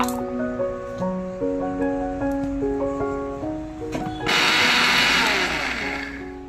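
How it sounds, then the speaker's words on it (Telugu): A kitchen mixie grinds roasted chillies and coriander seeds with salt, starting with a lower churning whir before surging into a loud, harsh, steady grinding roar for the last couple of seconds. "ఉప్పేసి మిక్సీ పట్టుకుందాం."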